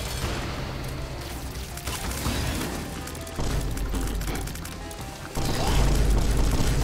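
Bombs exploding in The Binding of Isaac, a run of heavy booms and crashes layered over busy game music and effects, loud and continuous with stepped bursts.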